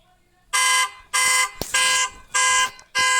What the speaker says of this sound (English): let's start alarm.